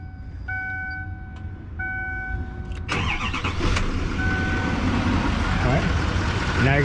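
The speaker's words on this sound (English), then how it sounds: "we're going to go ahead and start the vehicle." A Chevy 2500 HD Duramax 6.6 diesel engine cranks and fires after a fuel filter replacement, following a few electronic chimes, then settles into a steady rumbling idle that stays loud and continuous.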